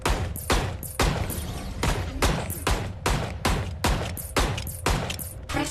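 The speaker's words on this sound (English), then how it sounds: "Press trigger to fire your sidearm and eliminate all of the targets" Sidearm shots fired at targets in a VR shooting game, about a dozen sharp, loud reports in a steady rhythm roughly every half second, each with a short ringing tail.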